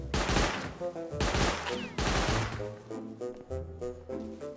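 Bursts of gunfire in the Rust survival video game, loud repeated volleys in quick clusters with ringing echoes and short gaps between them.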